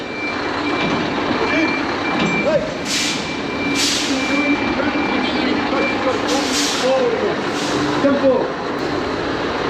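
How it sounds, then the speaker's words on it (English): On a city street at a roadblock, a truck reverses with repeated reversing beeps sounding at a regular pace, alongside a hiss of air brakes and street traffic noise, while a person talks nearby. "Reversing a truck"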